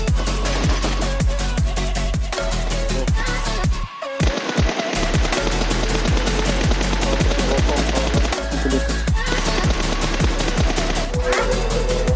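Sniper rifle fire in the mobile shooter PUBG Mobile, with loud sharp shots repeating steadily over a dense game soundtrack and a brief drop near the middle.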